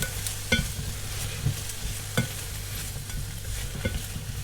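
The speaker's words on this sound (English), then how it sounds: "And now the tomatoes. Give them a little mix." Spring onions and tomatoes fry in a pan for a tagine with shop-bought sauce while a spoon stirs them, giving a steady low sizzle broken by a few sharp scraping knocks against the pan.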